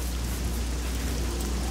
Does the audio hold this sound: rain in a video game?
yes